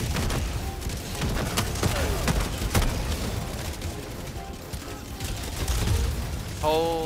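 Sentry turret fire in the Helldivers 2 video game sounds as dense rapid bursts and booms in the game mix, continuous and busy, with a voice speaking over parts of it.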